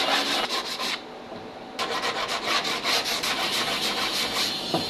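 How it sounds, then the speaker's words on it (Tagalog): Close, steady abrasive rubbing as the sharp edge of Formica laminate trim on a closet cabinet is sanded by hand. Strokes repeat rhythmically, pausing briefly before resuming. "Matalim pong formika mga boss, kaya kailangan po talaga lihain,"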